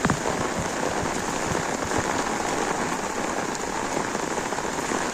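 Steady rain pours down over a flooded Kopar railway station in Dombivli, a dense, continuous hiss of drops on water and surfaces that stays loud and unbroken throughout.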